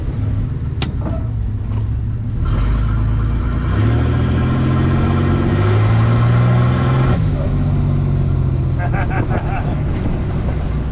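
A truck's 4.3-litre V6 engine roars steadily, its pitch rising as it accelerates and then easing off, with wind rumble and road noise throughout.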